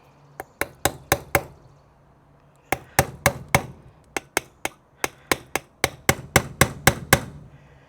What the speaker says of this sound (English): you hammer it in there